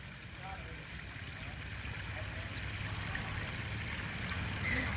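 A leaking water supply pipe spills water onto Nalwandi road, a continuous broadband rush of falling water, fairly faint and steady, with voices murmuring indistinctly underneath.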